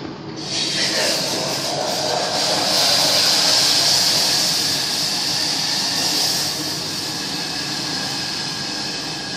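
A mixture boils hard in a heated pot, a loud, continuous, rushing hiss that rises sharply at the start and holds steady throughout with no talking.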